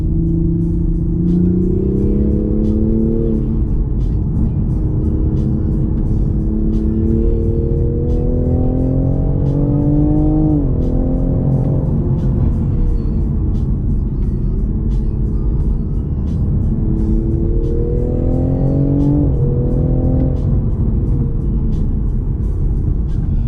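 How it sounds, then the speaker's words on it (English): A 2020 Toyota Supra driven hard in sport manual mode, its engine note climbing through repeated revving pulls and dropping at shifts, loud and steady from inside the cabin with no talk. "into sport, into manual mode, have a bit of fun, shall we, in a Supra."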